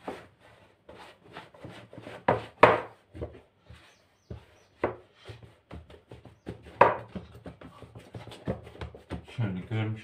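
Soft yeast dough for poğaça is kneaded by hand on a surface, producing irregular dull slaps and thumps, some sharper than others, with quiet gaps between the pushes.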